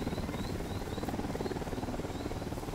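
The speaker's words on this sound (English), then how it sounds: "Don't need that chopper." A helicopter in the video game Ghost Recon Wildlands drones steadily with a continuous rotor thump, loud and constant from start to finish, without talk.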